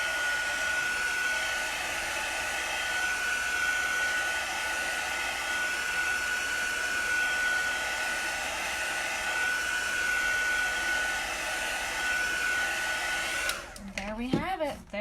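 A hair dryer blows steadily at close range to dry a freshly cleaned jar, a constant whirring roar with a thin whine, cutting off abruptly near the end.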